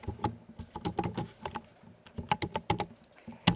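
Quick, irregular keystrokes on a computer keyboard as Java code is typed, bursts of crisp clicks separated by short pauses, close and clear with no talking.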